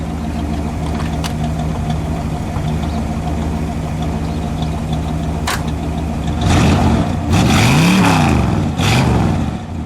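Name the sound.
1961 Pontiac Catalina engine revving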